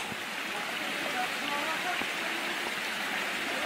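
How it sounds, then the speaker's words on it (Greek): A rushing river at the Edessa waterfalls near Loutraki Aridaias, Greece, its broad, steady roar of churning water filling the scene without pause, close and loud. "Πρόσεξε, γιατί το ορμητικό ποτάμι θα σε παρασύρει."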